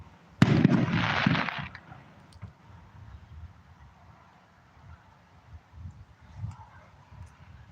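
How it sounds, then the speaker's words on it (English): Fireworks go off outdoors at a stealth campsite in Wyoming: one loud crackling burst early on, followed by fainter distant pops and rumbles. "They can't have that many fireworks left, can they?"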